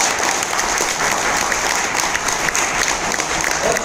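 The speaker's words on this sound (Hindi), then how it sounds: "उनके लिए जोरदार तालियां।" Applause from an audience at a leadership training event in a Mumbai office, a dense, loud, continuous wash of clapping with no pauses.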